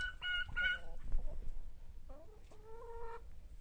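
Backyard chickens and fowl cluck and call in a short series of close, overlapping vocalisations, with a few louder squawks near the start and a steadier clucking run toward the end.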